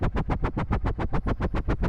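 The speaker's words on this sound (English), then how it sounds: "So this red pill, blue pill preset sounds like this." Red Pill Blue Pill phaser preset chopping a sound into rapid, evenly spaced pulses, about a dozen bursts in under two seconds, each sweeping through its tone, loud and alone.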